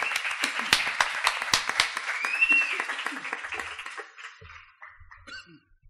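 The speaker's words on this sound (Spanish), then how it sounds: "Os pido un aplauso para él también" An audience at a parapsychology and mystery biennial presentation in Bélmez de la Moraleda applauds, bright mixed clapping that holds for about four seconds, then fades into faint scattered sounds.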